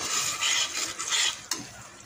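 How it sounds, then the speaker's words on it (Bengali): Spice paste for a fish curry sizzles and fries in a pan while being stirred, a close, steady hiss with scraping strokes and a sharp clack of the spoon near the end. "আর এই দিকে আমার এই যে মাছের ঝোলের যে মশলাটা ছিল সেটাও প্রায় কষা হয়ে গেছে।"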